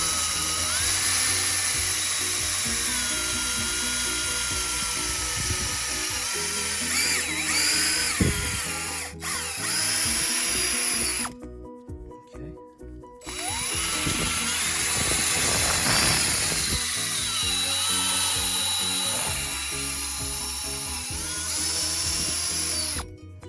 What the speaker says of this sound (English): we'll come in here and we'll just drill that out